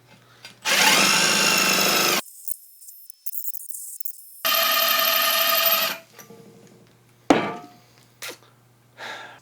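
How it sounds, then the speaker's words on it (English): A cheap drill bit on a power drill trying to bore into tile, with loud whining bursts of drilling separated by pauses, a sharp clatter near the end and a final short burst. "Next thing they claim is that it will go through tile."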